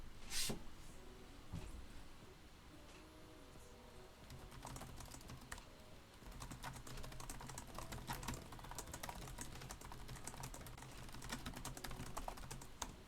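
Keys clatter on a computer keyboard in quick, uneven bursts of clicks and taps, close and fairly quiet, with short pauses between runs and a faint low hum underneath.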